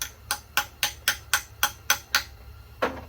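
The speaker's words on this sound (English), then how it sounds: "It's a hammer, y'all." A hammer strikes metal during an engine tear down, about ten sharp, ringing blows in an even, quick rhythm with a short pause before the last couple, close and clear with no talk.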